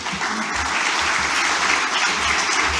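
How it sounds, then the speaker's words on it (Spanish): An audience applauds steadily as guests are called to the table at a panel discussion on the ceramic tile and flooring industry cluster, a dense clatter of many hands with no voices over it. "un aplauso para ellos"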